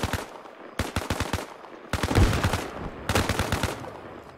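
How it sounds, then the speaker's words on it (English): Gunfire in Arma Reforger: three rapid automatic bursts of rifle or machine-gun shots, each several sharp cracks in quick rhythm, loud and fairly close, separated by brief pauses. "Who is shooting at me?"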